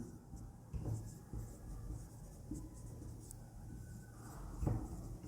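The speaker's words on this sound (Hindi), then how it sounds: "चलो मैं लिख देता हूं" Marker strokes on a classroom board, a series of scratchy, rubbing bursts of varying length spread across a quiet room, with faint background murmur but no clear speech.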